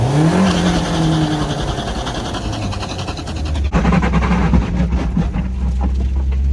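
A slammed Mazda Miata revving hard while trying to do a burnout, its loud, close engine rising and dropping in pitch through repeated throttle blips, with a rough, rattling tone throughout.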